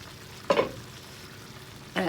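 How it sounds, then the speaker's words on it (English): Shrimp and sausage jambalaya with nearly cooked rice in a pot, heard as two short bursts of sizzling or stirring about a second and a half apart against a quiet, low background. "Our jambalaya has been cooking for 10 minutes."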